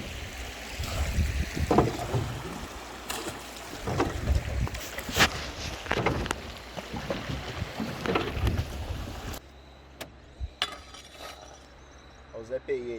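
A small boat crosses open water toward a deserted island, with wind buffeting the microphone, water sloshing and splashing against the hull, and scattered knocks as water is bailed out by hand, fading to a quieter stretch near the end.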